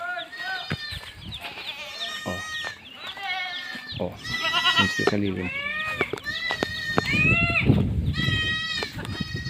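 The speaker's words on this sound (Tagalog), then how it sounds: "Ay, yung mga kambing ko." Goats bleat repeatedly, several loud wavering cries close by, some overlapping, on a farm where they gather in the shade of a big mango tree at lunchtime; a person talks now and then between the calls.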